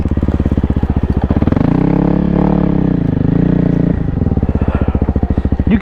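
A 2024 Kawasaki KLX300R dirt bike's single-cylinder engine revs hard and loud up close as the rider pulls a wheelie up a climb, holding a raised whine before dropping back to a rapid thumping idle.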